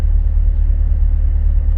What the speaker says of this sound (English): And the car is getting louder,